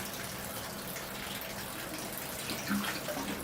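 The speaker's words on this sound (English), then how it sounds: "the water draining through the bottom of the pot" Water draining through the bottom of a bonsai pot after thorough watering, a steady soft rushing trickle with a few small drips, close and quiet.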